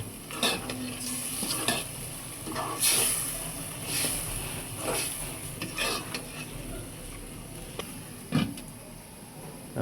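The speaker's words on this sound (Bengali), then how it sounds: "চামড়াটা ভালোভাবে কষিয়ে নেব মশলার সাথে" Chicken skin sautéed with spices in a pot for chicken-skin biryani, a soft sizzle broken by repeated scraping and clanking stirs of a metal spoon against the pan, close and uneven in rhythm.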